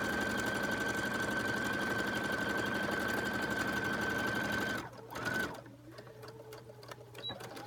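A sewing machine stitches the side seams of fabric in a fast, steady mechanical whir for several seconds, then stops, leaving a few faint clicks and handling noises.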